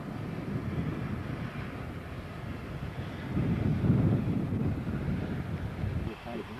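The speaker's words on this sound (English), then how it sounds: "Bit of a wind today." Wind blowing outdoors at a hedgelaying site, a steady low rumbling buffet against the microphone that swells in the middle and then eases, with no other clear sounds over it.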